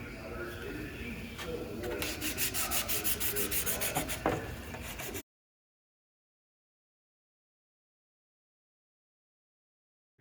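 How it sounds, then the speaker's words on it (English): Close, scratchy hand sanding of a plastic RC rock crawler Bronco body with 220-grit sandpaper in quick rhythmic strokes for about five seconds, then it stops abruptly into silence. "I'm gonna grab some more 220 and I'm gonna sand all the outside of it."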